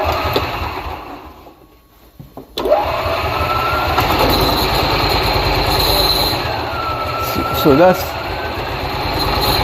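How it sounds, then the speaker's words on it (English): A golf cart engine runs steadily and loudly after a short lull, with a squealing tone rising and falling over the drone; a brief spoken word comes near the start. "that's the engine running right there."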